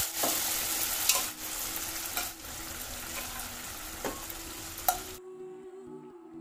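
Boiled black lentils (mati dali) being stirred into frying spices and paste in a pan while cooking ash gourd khar: steady loud sizzling with scraping stir strokes and a couple of clatters, cutting off into near silence near the end.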